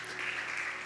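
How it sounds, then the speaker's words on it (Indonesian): Congregation clapping during a youth church service, a short, fairly even burst of applause at moderate distance, with a faint steady hum beneath it. "Tepuk tangan buat Tuhan Yesus."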